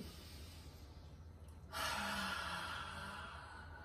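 A person's breath during lumbar L2 neurolymphatic reflex point stimulation: a quiet stretch, then a sudden broad, airy exhale starting about midway and sustained to the end, close and fairly loud, with no talking.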